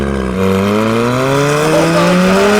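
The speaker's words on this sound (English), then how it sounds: "The blow-off is insane. It's so torquey now." A turbocharged and supercharged car engine revs up loudly nearby, its pitch climbing steadily over a couple of seconds with layered whining tones.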